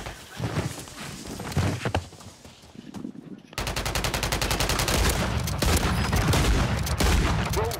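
Rapid bursts of light machine gun fire in a first-person shooter game, loud and sustained after a brief pause, with dense repeated shots running to the end amid other battle noise.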